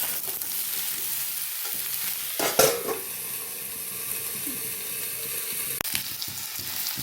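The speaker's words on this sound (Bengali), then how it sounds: "নেড়ে নিয়ে আমি বেগুনগুলো দিয়ে দিলাম। ভালো করে ঢাকা দিয়ে আমি ভেজে নেবো।" Potato, papaya and eggplant fry in a covered pan, a steady close hiss of sizzling oil with a couple of sharp clanks from the lid or utensil.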